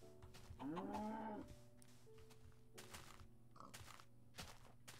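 A cow moos in the blocky sandbox game Minecraft Beta 1.2, one drawn-out low call near the start, followed by soft footstep crunches on grass and a few scattered clicks.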